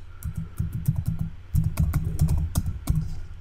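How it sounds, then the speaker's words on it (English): Keys on a computer keyboard are typed in quick bursts, a dense run of close, crisp clicks with a short pause in the middle, heard alone. "here I'm going to type statistics"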